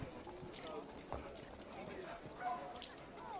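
Horse hooves clip-clopping in the video game Assassin's Creed III, a quiet, irregular run of hoof taps with faint background voices.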